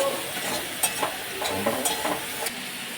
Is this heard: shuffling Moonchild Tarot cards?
no